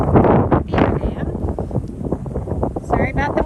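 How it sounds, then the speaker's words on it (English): Strong wind buffets the microphone on a warm, very windy hiking trail through the woods, a steady loud rumble with gusts that never lets up for the whole stretch. "Sorry about the wind."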